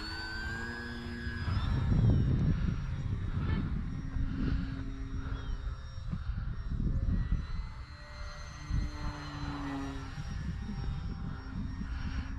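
An FMS PA-18 Super Cub 1300mm RC plane flies overhead on its maiden flight, its steady motor drone rising and falling in pitch as it passes, with voices talking faintly underneath.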